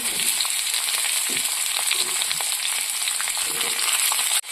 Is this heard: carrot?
yes